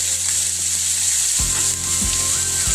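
Chicken adobo sizzles and fries in a hot pan while it is stirred, with a constant bright hiss and a few clattering scrapes of the utensil, close and loud with no talking.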